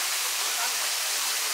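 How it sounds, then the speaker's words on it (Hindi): A waterfall at Siyadevi Temple near Naragaon, Raipur, Chhattisgarh, running with reduced flow, pours as a steady, close, full hiss of falling water that stays even throughout, with no voices. "और ये है वो झरना जहाँ से बह रहा है।"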